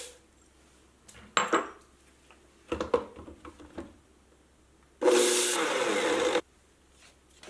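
Cooked moong dal, cooled to room temperature, is ground to powder in a blender. A few clinks of utensils come first, then one loud, harsh whirring burst lasts about a second and a half and stops abruptly.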